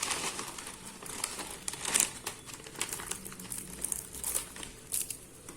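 Dry varagu millet noodles snap and crackle as they are broken by hand into a pot, with a series of sharp, fairly faint crunches and crinkles close by.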